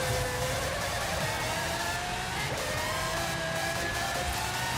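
A car engine in the racing game Forza Horizon 5 drones steadily at a loud, constant level with rising and falling tones, running alone with no talk throughout.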